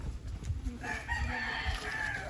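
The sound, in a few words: chickens clucking and crowing on a farm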